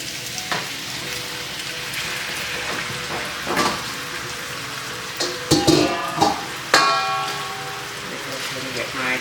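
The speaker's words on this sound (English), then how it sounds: "I'm going to drop a piece in and it starts to sizzle" Pieces of pork for green chili dropped into hot oil and sizzling loudly up close, a steady crackling fry broken by a few metallic clangs and stirring knocks from the pan.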